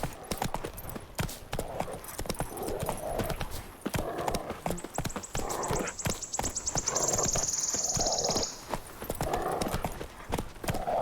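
A horse trots in The Witcher 3 video game, its hooves clip-clopping in a quick, steady rhythm throughout. A brief high whinny rises in the middle, and there is no talking.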